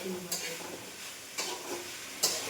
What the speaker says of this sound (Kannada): ಈ ಥರ ವೆಜಿಟೇಬಲ್ ಹಾಕಿ ಪನ್ನೀರ್ ಹಾಕಿ ಸ್ನ್ಯಾಕ್ಸ್ ಮಾಡಿಕೊಡ್ತಾ ಇದೆ